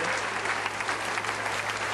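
Sustained applause from a large crowd giving a standing ovation to a much-loved folk dance troupe on stage, dense and steady clapping throughout with no gaps.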